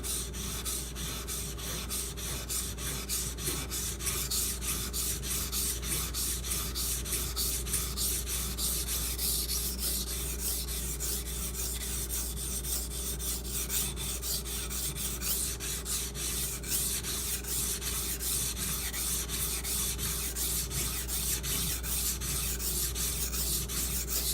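A Karaku Bunka knife in Aogami Super steel is thinned on a sharpening stone, giving a continuous rhythmic scraping and rubbing with fast repeated strokes, close and loud, with no talking.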